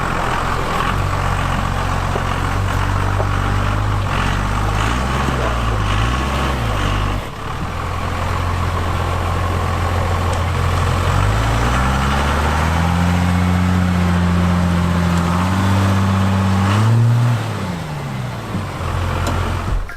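A 1994 Dodge Cummins diesel truck, about 7000 lb, climbs a snowy off-road trail in a snowstorm, its engine droning steadily and loudly, with the pitch rising and falling as the revs change.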